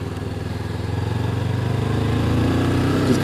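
A Honda CB500X 500 cc motorcycle engine pulses rhythmically and climbs gradually in pitch and loudness as it accelerates in gear, close and steady under wind noise, with no talk.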